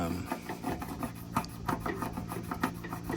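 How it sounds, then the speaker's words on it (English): Hand tool scraping residue off a coated roof surface, a close, continuous run of gritty rasping strokes with uneven sharp ticks, fairly quiet and steady throughout. "the only way to get it out is to scratch it"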